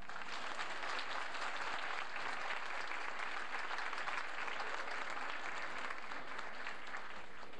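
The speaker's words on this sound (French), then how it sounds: "Alors, on applaudit nos gagnants très fort." Sustained applause fills a hall as the audience claps for the winners at a 1989 opening-night gala, a dense, even roar of many hands that stays steady and loud from start to finish with no talk.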